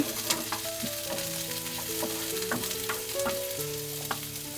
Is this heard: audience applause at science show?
no